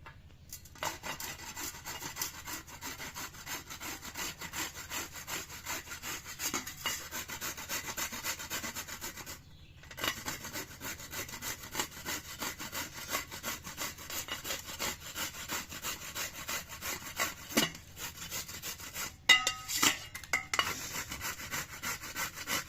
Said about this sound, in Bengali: এখন আমি গ্রেটারের সাহায্যে গ্রেট করে নিব